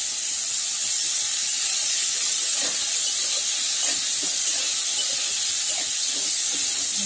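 Bitter gourds frying in oil in a pan, a steady loud hiss of sizzling with faint crackles and no talk.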